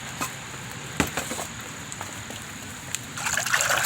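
Water trickles into a hand-dug hole beside a resurfaced field, giving a soft, steady dribble with scattered small splashes and drips, and it grows a little louder toward the end.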